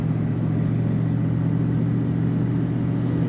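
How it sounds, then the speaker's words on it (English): A 2003 Ford Mustang Mach 1 with a 5-speed manual rumbles through its exhaust at a steady, even pitch, a loud close drone with a deep throbbing low end and no rise in revs. "Very nice exhaust sound in this car."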